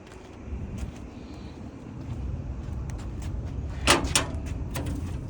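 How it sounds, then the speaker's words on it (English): A bus's exterior storage compartment door swings shut and latches with a short clunk near the end, against steady outdoor wind and background noise. "The door itself locks,"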